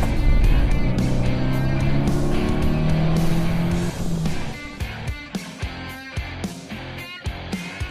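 A classic Mini car drives off after a final brake test, its engine loud and close at first with tyre noise, then shifting through gears with rhythmic revving bursts as it heads back to the garage.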